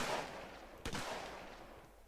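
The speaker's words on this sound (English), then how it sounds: "Sounds like you've got the launcher sound there, but also a gun firing behind it." A single sharp shot from a modded grenade launcher in a video game, with a gun firing behind it, stands out against a dull background rumble and fades quickly.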